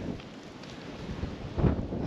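Wind gusts sweep through a stormy campsite, a steady broadband rush that swells into a stronger burst near the end, with no voices.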